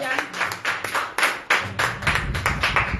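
A church congregation claps loudly and in fairly regular rhythmic pulses, close and full, with a low rumble building underneath partway through.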